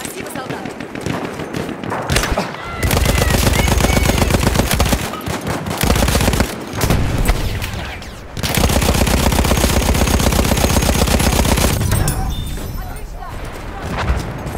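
A Lewis machine gun fires in a video game battle on the Volga river, ripping out long, loud bursts split by short pauses. Voices and battle noise fill the gaps between bursts.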